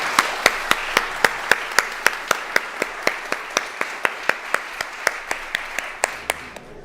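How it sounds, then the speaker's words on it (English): Clapping in the NSW Parliament chamber at a celebration of 100 years of women in parliament comes as sharp, evenly spaced claps about three per second, prominent over a quiet room. "Let's please give her another round of applause."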